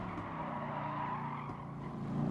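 Gr.3 race car in GT Sport braking late into a corner at the Nürburgring GP circuit, with a steady, loud engine drone and tire noise throughout, rising slightly at the end.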